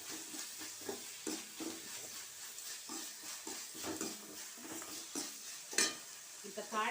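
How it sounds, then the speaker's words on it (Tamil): Curry leaves and coriander being stirred into frying tomatoes for a quail gravy: soft sizzling with repeated stirring scrapes and occasional utensil knocks against the pan, fairly quiet and close. "இப்போ கருவேப்பிலை கொத்தமல்லியை சேர்த்துக்கலாம்."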